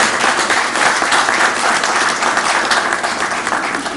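Audience at a ministers' environmental sustainability meeting breaks into sustained applause, a loud, even roar of many hands clapping that carries on steadily without speech.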